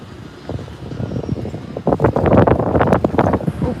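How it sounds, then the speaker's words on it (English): Gusty wind buffets the microphone outdoors at the SpaceX Starbase launch site in Boca Chica, rumbling softly at first, then building into stronger, louder gusts in the second half. "Okay, we got some wind."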